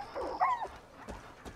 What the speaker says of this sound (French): C'était un chien, tu te calmes.